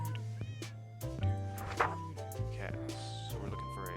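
A cat meows in the Minecraft video game, several short game meows over steady background music, with a person talking underneath.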